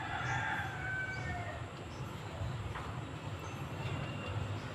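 A rooster crows in the distance at a gamefowl farm, its drawn-out call rising over a steady low rumble of background noise.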